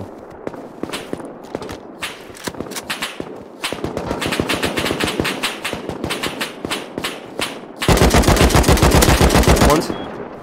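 AK rifle gunfire in the Rust video game, loud rapid bursts of automatic shots with scattered single cracks, ending in a sustained two-second spray, with a voice briefly heard over the shooting.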